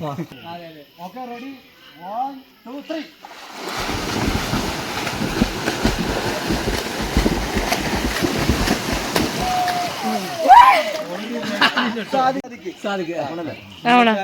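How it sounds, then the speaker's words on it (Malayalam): Swimmers racing in a swimming competition in Wayanad churn the water, producing a long, loud stretch of steady splashing and sloshing. Voices can be heard talking before and after it. "നമുക്ക് നീന്തി നോക്കിയാലോ?"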